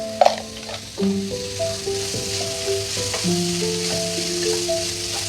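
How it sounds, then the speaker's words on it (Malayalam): Sliced onions sauté with salt in a pan, giving a loud, continuous sizzle. A stirring clatter comes at the start, and faint tonal hums run beneath the frying. "ഇനി ഇത് നല്ലോണം ഒന്ന് നമുക്ക് വഴറ്റി കൊടുക്കാം കുറച്ച് ഉപ്പിട്ടിട്ട് നമുക്ക് വഴറ്റിയെടുക്കാം"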